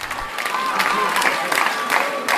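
A crowd at Israel's national Bible competition, a big televised Independence Day event, applauds and cheers in a steady wash of clapping with a few louder bursts, while a voice speaks over it.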